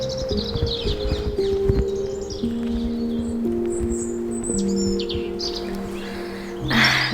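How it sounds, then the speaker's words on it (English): Several birds sing and chirp in a natural outdoor setting, bright twittering phrases rising over a steady tonal background, fairly close and continuous, with a louder burst near the end. "distracted by the birds. This is really beautiful singing."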